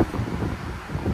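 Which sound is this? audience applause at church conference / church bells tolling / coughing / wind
wind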